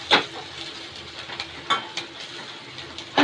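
Turmeric and red chili powder stirred in hot oil, with a steady sizzle and scraping spoon strokes that come in a few sharp, close bursts as the spices are mixed, no voices.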